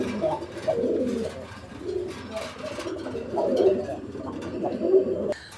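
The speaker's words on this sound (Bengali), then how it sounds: "আমরা এই মুহূর্তে দেখতে পাচ্ছি কালারিং রাজগোল্লা কবুতরের সম্ভবত আরও একটা জোড়া" Raj-golla pigeons coo repeatedly up close, low throaty calls in rhythmic bursts, with faint background sounds.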